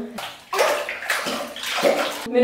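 Water from a shower splashes as a baby is bathed, a close, loud rushing spray in two long surges separated by a brief break, with no talk over it.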